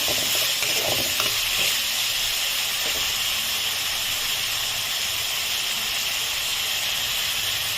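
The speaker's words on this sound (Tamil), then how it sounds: "தக்காளியை போடணும் தக்காளியை நல்லா வதக்கி விடணும்" Tomatoes sautéing in a pan with softened onions for a home-style radish sambar, giving a steady, loud hiss and sizzle throughout, with occasional faint stirring scrapes near the start.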